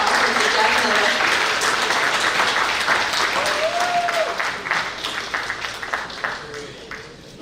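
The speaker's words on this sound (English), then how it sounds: "Please give a round of applause for Mr. Jeff Miller" A banquet audience at a cricket association award night gives a round of applause, dense and even at first, then thinning and fading toward the end.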